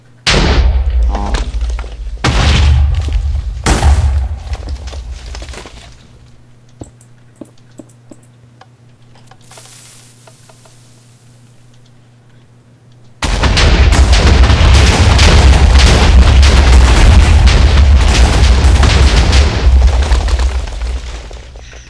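A bridge blown apart by explosions in Minecraft: loud booming blasts in quick succession, a quieter stretch, then a long sustained roar of detonations.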